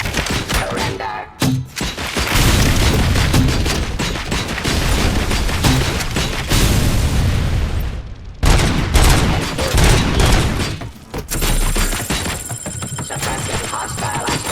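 Sustained gunfire rattles through combat in RoboCop Rogue City, dense loud bursts with booming thuds and short pauses, and a synthetic tone near the end.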